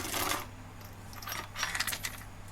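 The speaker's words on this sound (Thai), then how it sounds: "ฟังเสียงตอนโซ่หมุนครับ มันกึกกึกกึก" Chain on a Stihl 180 or 250 chainsaw with a swapped guide bar spins while its 3/8 teeth fail to seat, giving a rapid, uneven clicking rattle over a steady low mechanical hum, close and moderately loud.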